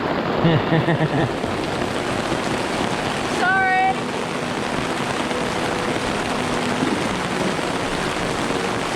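Rain falls outdoors in Vietnam as a steady, dense hiss, mixed with wind and close microphone noise, with a brief spoken word near the start and a short chirping tone midway.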